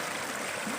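Water poured outdoors at a solo bushcraft camp while roasting chicken, a steady close trickling stream running without pause for under a second, with no talk.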